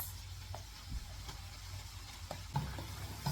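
Egusi paste frying in a pot with locust beans and crayfish, giving a steady close sizzle with a few scraping stirs and soft knocks of a spoon against the pot.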